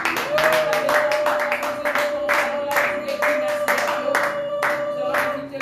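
Church congregation at a service applauding in steady rhythmic claps, loud and close, with a sustained voice or tone running underneath.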